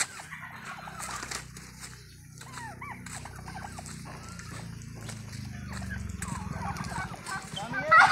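Turkeys gobble and cluck amid a noisy farmyard as they are herded, with people talking and calling out over the flock as it moves along.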